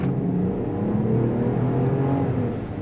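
A 2023 Jeep Wagoneer pulls hard along a road, its engine note rising and droning steadily from inside the cabin, loud and continuous with rumbling tyre and road noise underneath.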